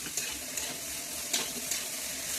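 Cauliflower with salt and turmeric sizzles softly in a pan while a spoon stirs it, with a few sharp scraping clinks against the metal over a quiet, steady frying hiss.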